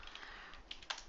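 Soft, fairly faint tapping of keys on a computer keyboard, a brief run of light clicks with a couple of slightly firmer presses toward the end.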